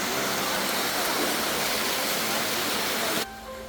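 Loud, steady rush of water in the Andharban forest fills the scene, dense and broadband, then drops off abruptly near the end to a quieter hiss.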